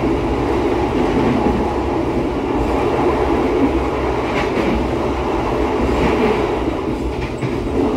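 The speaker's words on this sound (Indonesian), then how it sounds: "Tiba sesuai jadwal, kereta api Singasari sudah sampai di stasiun Sragen." The Singasari executive train pulls into Sragen station, a steady loud rumble of rolling carriages with faint wheel clatter and no talk over it.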